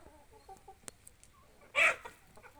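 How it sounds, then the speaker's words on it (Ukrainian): Roosters cluck softly in short bursts, with one louder squawk midway, near and otherwise quiet. "От такі от пітушки. От такий гарний пітушок"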